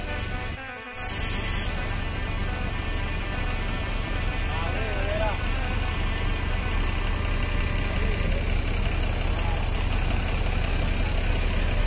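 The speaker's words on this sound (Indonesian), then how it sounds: "satu INS eksekutif masuk Terminal Kampung Rambutan" An executive coach bus engine idles and rumbles steadily as it enters the Kampung Rambutan bus terminal, loud and continuous with broad low drone, a brief clatter near the start and faint voices in the background.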